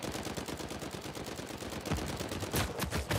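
Continuous rapid gunfire crackles in Uncharted 4 multiplayer, a dense stream of sharp automatic shots with no pause, fairly close and growing slightly heavier toward the end.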